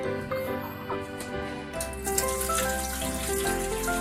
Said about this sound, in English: go ahead and get the water and pour it in